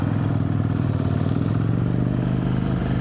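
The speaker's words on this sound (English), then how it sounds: "she's a 2020 Husqvarna 701 SuperMoto" A 2020 Husqvarna 701 SuperMoto single-cylinder motorcycle runs steadily at close range, a loud continuous engine drone with a low pulsing throb and some mechanical clatter, no voices.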